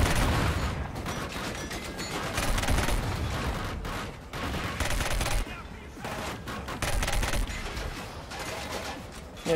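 Rapid gunfire from a weapon in the first-person shooter Killzone Shadow Fall comes in sustained, loud bursts, broken by short pauses and mixed with the game's explosions and mechanical clatter.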